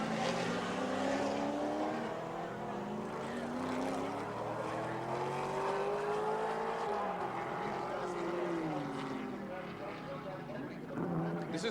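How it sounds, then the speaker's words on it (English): Touring cars, a BMW among them, race at Symmons Plains in 1984, engines rising and falling as they pass, with a commentator talking over the steady roar. "look at Richards on him in the BMW."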